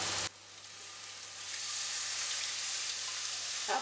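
Tamarind water poured into hot masala for a Kerala-style sardine curry, a sudden loud hiss that settles into a steady bubbling sizzle, close and continuous.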